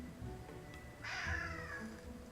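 A single drawn-out cat meow from the Pathfinder video game, rising and then trailing off over a steady, quiet game ambience with no talking.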